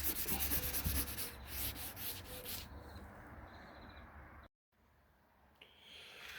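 Hand sanding of a yellowed car headlight with toothpaste gives a loud, close, rhythmic rubbing scrape that slows and fades, breaks off briefly, then resumes more softly.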